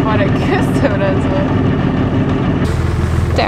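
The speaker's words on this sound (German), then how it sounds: "Der Motor geht aus, Leute." A sailboat's engine drones steadily at the start of a sailing trip toward Norway, then abruptly cuts out near the end, leaving water and wind noise; people talk over it throughout.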